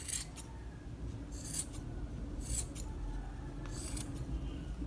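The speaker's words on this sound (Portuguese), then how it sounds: "Agora, isso aqui que sobrou, vamos cortar tudo." Scissors snip through leftover cloth scraps from a handmade grandmother rag doll, four short crisp cuts spaced about a second apart over a low steady background hum, fairly quiet and close.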